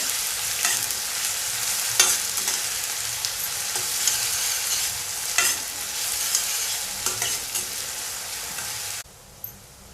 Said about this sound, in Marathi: हे बघा लसूण भाजली तशी आपण हा कांदा आणि कडीपत्ता घालून घेऊ छान असं परतून घ्यायचं